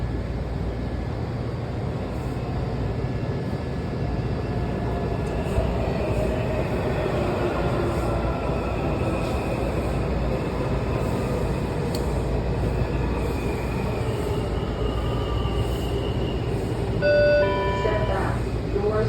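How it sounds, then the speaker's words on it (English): A Washington Metro Red Line train to Fort Totten rumbles steadily along the track, heard from inside the car as a loud continuous roar with a brief chime near the end. "This is a red line train to Fort Totten"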